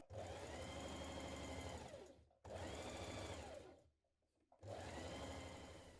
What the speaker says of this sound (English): Stitch the side seams on your lining pieces